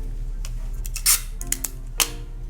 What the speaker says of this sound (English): we're going to secure that down with another piece of tape